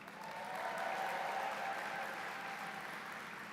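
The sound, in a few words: audience applause for award winners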